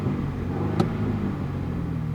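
A Mini JCW Clubman with a 2-litre 306-horsepower engine idles with a steady low exhaust rumble, close by, with one brief sharp pop partway through.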